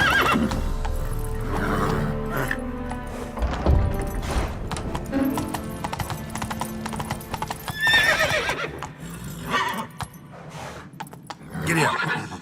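Horse in The Witcher 3 video game whinnying amid steady clip-clop of hooves, loud and close, with rhythmic galloping steps throughout and a few more neighs near the end.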